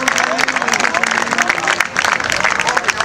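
A crowd in a packed town square at a public event in Orsago claps loudly, with dense rapid clapping throughout and a voice speaking over it.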